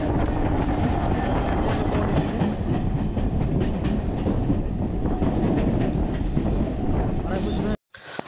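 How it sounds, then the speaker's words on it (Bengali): A train pulls into platform 2 at Baruipur railway station, its loud, steady rumble and clatter of wheels filling the scene until an abrupt cut near the end. "আমরা এখন এসে পৌঁছালাম বারাইপুর স্টেশনে। ট্রেন এসে দাঁড়ালো 2 নম্বর প্ল্যাটফর্মে।"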